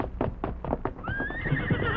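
A horse whinnies in a long, rising then wavering neigh, preceded by a quick run of close hoof clip-clops, loud and near, with no talking.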